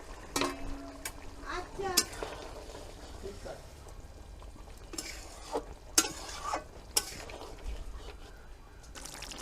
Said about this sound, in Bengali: ঝোলটা ফুটে গেছে এবার এর মধ্যে আমি আলুটা দিয়ে দেবো